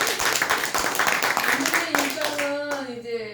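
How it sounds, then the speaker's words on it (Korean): Audience applause after a lecture, a lively burst of many hands clapping that fades out after a few seconds, with voices speaking over the tail end. "뜨거운 박수 부탁드립니다"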